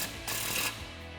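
A ratchet tightens an exhaust clamp on a 2015-2017 Mustang V6 Roush axle-back exhaust, giving a short close burst of rapid clicking followed by a quieter stretch of clicks.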